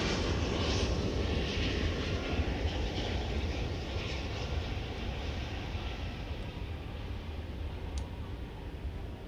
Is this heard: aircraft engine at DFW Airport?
yes